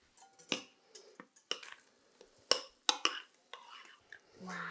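Milk and baking soda batter fizzing and crackling as it is stirred with a spoon in a bowl, heard as sparse sharp clicks and scrapes over a quiet background.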